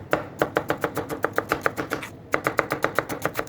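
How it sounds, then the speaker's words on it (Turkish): Rapid, even knife strokes tap against a cutting board slicing an onion in a steady rhythm, pausing briefly before the chopping resumes at the same brisk pace. "bir adet soğanımızı ay şeklinde doğramaya başlayalım"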